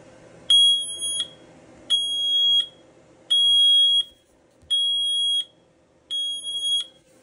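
A Zigbee smoke detector sounds its alarm in five loud, evenly spaced shrill beeps, each lasting about a second, with quiet gaps between them.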